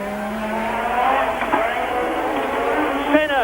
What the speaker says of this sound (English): Senna goes past me as round the Hotel de Paris